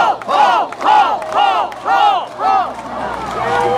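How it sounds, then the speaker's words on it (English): Rally crowd for Paul Ryan at a Romney/Ryan event in Mooresville, NC, roaring in rhythmic surges of chanting and cheering, about five loud pulsing swells of many voices close and dense, with scattered clapping underneath. "let's cheer for Paul"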